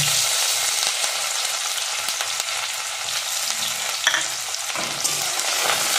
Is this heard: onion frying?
yes